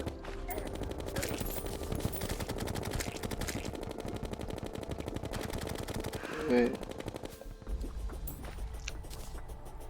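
Rapid automatic gunfire in the Terraria video game rattles in quick bursts, fairly quiet and steady through most of the stretch, with a brief louder blip near the end.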